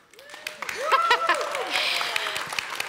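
A church congregation at the NIWAD campus applauds, scattered clapping swelling into a steady moderate round that continues under someone speaking over it.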